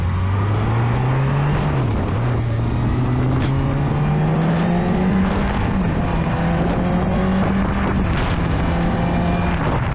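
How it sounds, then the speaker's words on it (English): A Honda CB1000R motorcycle accelerates through the gears, its engine revs climbing steadily with brief dips at shifts, a loud exhaust note and induction growl layered with wind rush. "It's a superb mix of induction noise, building revs and exhaust note."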